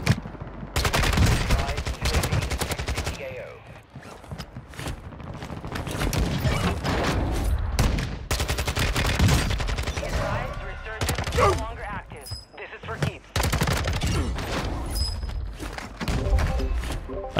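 Rapid gunfire in a first-person shooter video game, with dense bursts of automatic fire and individual shots crackling almost continuously, plus occasional thuds, while players talk over the action.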